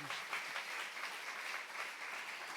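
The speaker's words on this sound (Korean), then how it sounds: "믿는 사람만 박수 하세요" A church congregation claps together during a sermon, a steady, even wash of many hands at moderate level that holds without pause, with no voices standing out over it.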